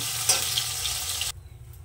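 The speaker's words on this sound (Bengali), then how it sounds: "এই তেলের মধ্যে আমি আলু কটাকে ভেজে নেব।" Potatoes fry in hot oil left over from frying paneer, a brief loud sizzle with a sharp hiss that cuts off abruptly after about a second, leaving only faint low rumble.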